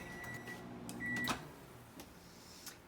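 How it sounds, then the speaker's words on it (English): A microwave oven heating nachos with cheese hums faintly in a kitchen, with a few beeps and a soft clunk along the way, and no talk. "we are going to actually put this in the microwave for 30 seconds"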